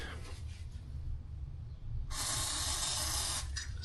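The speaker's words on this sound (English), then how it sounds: "How about some WD-40?" WD-40 spray lubricant is sprayed onto a vehicle seal area during FJ60 differential and transfer case work, a short bright hiss of about a second and a half following quieter handling noises.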